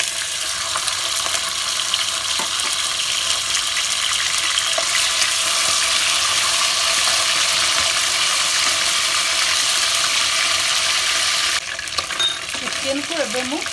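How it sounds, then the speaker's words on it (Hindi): Chicken sizzling and frying in a pan with bay leaves for korma over high flame, a loud, steady, close hiss that runs on continuously with a brief stir near the end. "तेजपत्र सब ये चिकन पड़ फ्राई हो"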